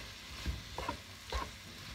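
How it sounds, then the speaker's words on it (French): Vegetables for tchakchouka are stirred in a frying pan, two soft scraping strokes of the utensil over a faint sizzle, quiet and close. "on mélange bien le tout"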